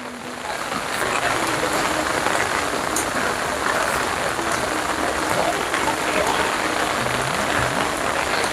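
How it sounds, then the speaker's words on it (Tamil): Heavy rain pours down at a water villa, a dense, steady hiss of drops hitting surfaces that stays loud and unbroken for the whole stretch, with faint background sounds underneath. "இந்த மாதிரி மழை"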